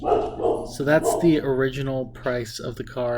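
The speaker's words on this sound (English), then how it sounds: "I apologize for my dog barking in the background." A dog barks and yips several times in the background of a room while someone talks steadily over it.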